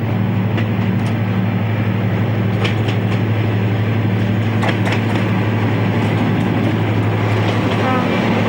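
A Class 55 Deltic diesel locomotive, St Paddy, works a train north at Weston in 1977, its engine a loud, continuous low drone with steady hum and occasional clanks from the rolling stock.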